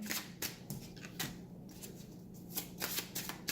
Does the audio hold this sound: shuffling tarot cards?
yes